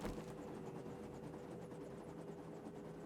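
Steady engine drone of a helicopter in the 7 Days to Die video game, a continuous mechanical hum with faint rhythmic rotor pulsing, even and unbroken throughout.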